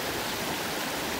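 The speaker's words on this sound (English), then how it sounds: "the sound of running water is so soothing and very good for de-stressing" Running water of Joe Creek in South Tulsa, a steady, even broadband rush of flowing creek water with no pauses, heard alone at moderate loudness throughout.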